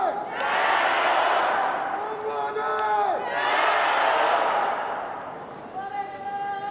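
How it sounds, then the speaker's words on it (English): Local fans cheer for the Chinese team at a wheelchair curling game at the Beijing 2022 Paralympics, a loud, sustained crowd roar that swells in two big waves with shouting voices and brief dips between them. "Our local fans having fun cheering the Chinese team."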